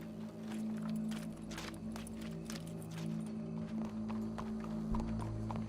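A horse in Red Dead Redemption 2 clip-clops with steady, rhythmic hoofbeats over a low humming background, moderately close and continuous throughout.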